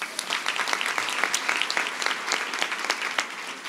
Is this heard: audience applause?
yes